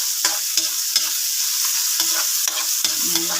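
Onion and garlic sauté in a hot pan with oil, a steady bright sizzle broken by regular scraping stirs about every half second, close and loud, with no talking.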